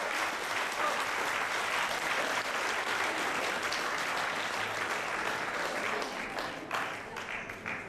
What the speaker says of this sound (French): Applaudissez les acteurs